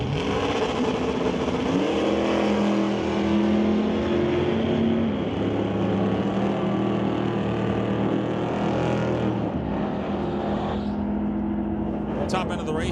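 Drag race cars at a strip, a Dodge and a 1966 Chevy II, run loud and close with a sustained engine roar and shifting tones for most of the span, fading near the end.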